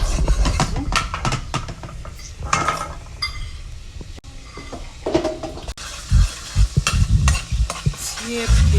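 Small spices fry in very hot oil for a salt cod and white yam dish, giving a steady sizzle broken by repeated scraping and clinking as a utensil stirs the pot.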